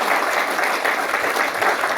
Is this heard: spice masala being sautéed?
no